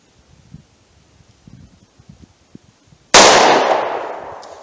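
A single sharp gunshot from a snub nose revolver firing .38 Special Buffalo Bore lead-free ammunition cracks loudly after quiet outdoor rustling and decays over about a second.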